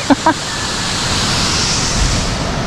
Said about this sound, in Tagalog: medyo kusog na ang bulog sa tubig. I mean ang downfall.